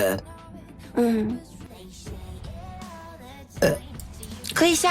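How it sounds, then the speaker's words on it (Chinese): Female VTuber streamer burps several times between bits of her own speech, the burps close to the microphone and fairly loud. "哎呦，我怎么老打嗝？"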